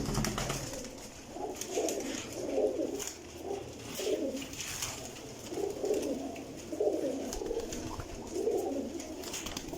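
Young breeder pigeons coo in a loft, soft throaty coos repeating in regular bursts about every second, fairly close, over a low steady background hum.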